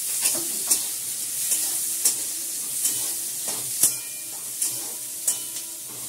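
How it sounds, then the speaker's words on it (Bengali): Onion and carrot fry in a pan for chow mein, a steady close sizzle with regular stirring scrapes every half second or so and no voices. "পেঁয়াজটা হালকা করে ভাজা হয়ে গেলে গাজরটা দেবো।"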